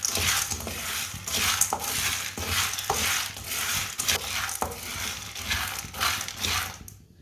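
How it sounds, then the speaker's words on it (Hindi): Roasted chickpeas are stirred in a hot pan, dry grains scraping and rattling in a steady rhythmic sweep, each stroke a gritty rustle with occasional clinks of the spoon, close and alone. "चनों को अच्छी तरह गर्म कर लेंगे।"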